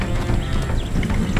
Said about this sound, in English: Be nice, horse.